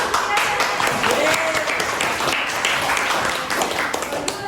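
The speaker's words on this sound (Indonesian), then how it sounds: "Kita tepuk tangan dulu." A secondary school class claps together in a classroom, a steady burst of many hands applauding at once for several seconds.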